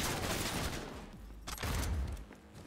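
An auto pistol in Cyberpunk 2077 fires in quick rattling bursts, two dense clusters of rapid shots at moderate volume with a short gap between them.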